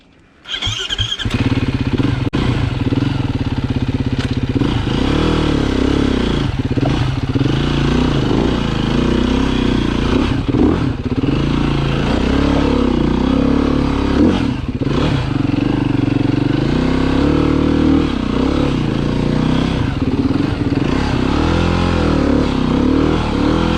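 A four-stroke Foxboro motorcycle engine runs loud and close throughout, revving up and down repeatedly while riding, with a steady low drone and shifting pitch surges between throttle blips.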